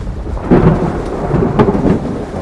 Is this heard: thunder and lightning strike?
yes